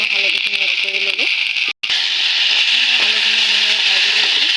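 Potatoes with salt and turmeric sizzle steadily in a hot pan, a loud continuous hiss with a brief cut near the middle, while a person talks over it.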